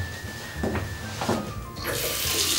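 Hot water from a dual-circuit boiler runs from a bathroom tap as a steady, close gush that grows fuller and louder toward the end, with no speech.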